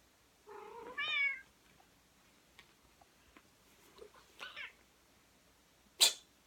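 A pet cat meows indoors, giving a couple of short, close meows early on. Softer squeaky sounds follow, then a sharp sneeze-like burst near the end, all against a quiet room.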